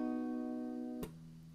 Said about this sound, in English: you have a triad that sounds like this.